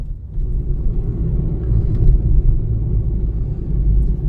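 A car driving on a highway during rush-hour traffic, with part of the road under construction, gives a steady, loud low road rumble and engine drone that continues without pause.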